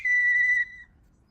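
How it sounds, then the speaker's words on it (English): A single clear, pure whistle tone from a clay whistle held for about half a second, then cut off, leaving quiet background. "So that whistle there, I opened a hole and then I would use my finger to kind of uncover the hole"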